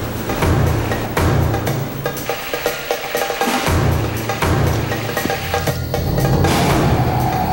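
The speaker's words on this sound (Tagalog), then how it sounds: "gumagrabe yung alon." Rough sea waves slap and surge around a boat off Batanes, a loud, churning roar of water with rhythmic heavy swells and buffeting, no voices present.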